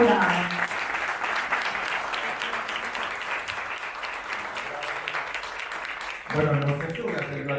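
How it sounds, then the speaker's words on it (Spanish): An audience at a presentation of writer Bernardo Jurado's book gives him a strong, sustained round of applause, with a voice speaking briefly at the start and again near the end. "pido a la audiencia un fuerte aplauso para Bernardo Jurado"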